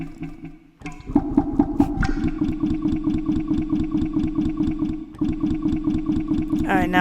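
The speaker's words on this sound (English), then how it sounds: "Let's go with a bubble." A bubble sample played through a granular morphing sampler produces a loud, rapidly pulsing, gurgling texture of evenly repeated grains that cuts out briefly partway through and then resumes.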